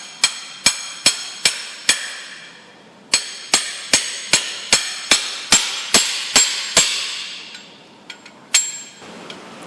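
An axle seal is hammered into a Ford Escape 6F35 transmission with sharp metallic strikes in two bursts of steady blows, about fifteen in all, loud and close with short ringing decays and no talking.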